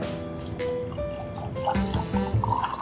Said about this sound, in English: Yeah, I'm not gonna measure this one, just gonna pour it.